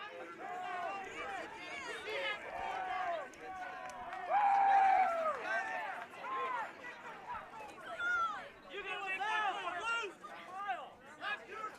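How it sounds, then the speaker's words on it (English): Spectators at a high school baseball playoff game between Seton Catholic and Apache Junction shout and cheer after a close call at third base, a dense, lively babble of many voices that swells into a loud surge midway and stays busy throughout. "you're hearing the Apache Junction crowd getting into it a little bit, as they should"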